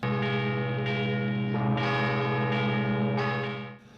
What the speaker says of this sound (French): quand il y a le grand branle des cloches